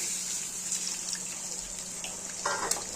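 Eggs go into hot oil in a pan for dhaba-style egg bhurji, giving a steady, moderate sizzling hiss with a few small pops near the end.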